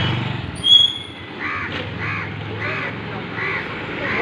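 Several crow caws ring out at a moderate distance, spaced roughly every half second to second over steady low background rumble, with a brief sharper call near the start.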